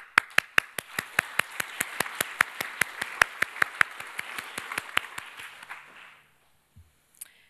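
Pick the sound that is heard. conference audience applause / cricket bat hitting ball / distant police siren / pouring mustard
conference audience applause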